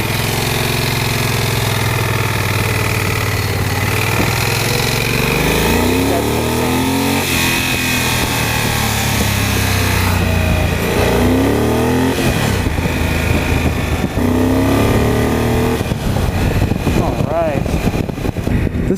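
A Triumph Thunderbird Commander cruiser motorcycle idles steadily at a traffic light, then revs and pulls away with rising engine pitch through several gear changes, loud and close, with someone talking over it.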